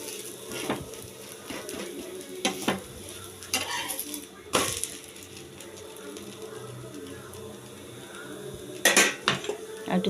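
A thin rice-flour chakli pancake fries in a pan with a steady sizzle, under clinking utensil and pan sounds and a few scraping stirs, close and moderately loud.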